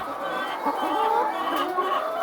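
Chickens cluck softly throughout, a steady murmur of egg-laying hens in a poultry house, with a faint crow-like call mixed in.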